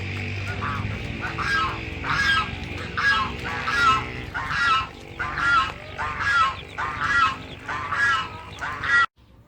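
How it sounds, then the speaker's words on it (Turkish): Geese and ducks squabbling in water, a string of loud, harsh honks and quacks repeating in rough bursts close by, over a busy background of splashing and other birds. "kazlar, ördekler seviyor yani suyun içinde böyle kavga etmeyi"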